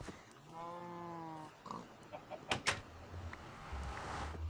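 Pig oinks from the video game Minecraft, a short series of stacked harmonic grunts early on, followed by game clatter and thumps with a steady low hum underneath.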